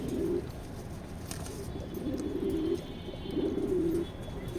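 Racing pigeons of a foreign bloodline, including a large male, coo in repeated low rounded bursts at close range, with soft background noise and no talking.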